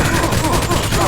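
Rapid gunfire in The Nameless Mod video game, a dense burst of overlapping shots, loud and close, filling the whole short moment.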